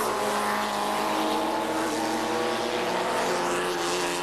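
Ford Sierra Cosworth touring cars in a 1988 production car championship race, engines droning loud and steady throughout with a broad, continuous roar and no gaps.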